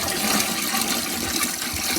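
Water rushes steadily through pipework into the cooling tank of a Petter M engine, a close, continuous broadband flow with no pauses and no voices.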